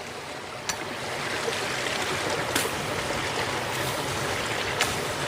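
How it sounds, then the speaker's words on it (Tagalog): Water rushing and trickling along a forest stream bed as someone wades through it, a steady close broadband wash with a few brief splashes and no talking. "binaybay namin itong daanan ng tubig"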